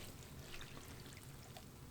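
Water poured onto hemp bedding in a worm bin, a faint continuous trickling pour lasting the whole moment, with no voices.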